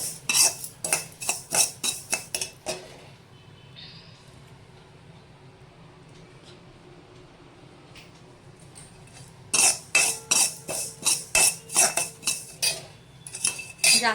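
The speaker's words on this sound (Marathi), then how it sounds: "हे पण आपण याच कढाईमध्ये थोडेसे थोडेसे परतून घ्यायचे" Rice ingredients for traditional ladoos stirred and roasted in a kadhai, bursts of rapid metal spatula clinks and scrapes, a quieter pause in the middle, then brisk clattering again, close and loud.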